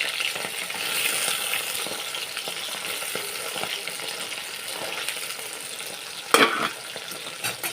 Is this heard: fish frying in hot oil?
yes